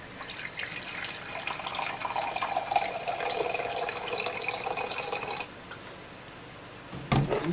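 Distilled water runs steadily into a container as a continuous bright splashing stream for several seconds, then stops, leaving quiet room tone and a brief clatter at the end.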